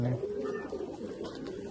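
A golden Rampuri female pigeon gives a short, soft coo at the very start, close but quiet, and is then followed by low background noise.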